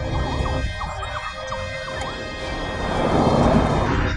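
Wailing police car sirens rise and fall continuously, loud and close, with traffic rumble swelling toward the end.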